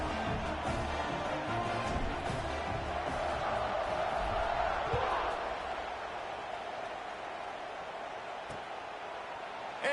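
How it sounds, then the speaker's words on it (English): A football stadium crowd murmurs and buzzes after a score, a broad, steady roar with faint cheering that eases slightly toward the end, heard behind a commentator's voice. "this crowd is buzzing after that last score"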